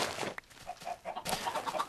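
Chickens clucking in Minecraft, a few short, close clucks and squawks in quick succession with no talking.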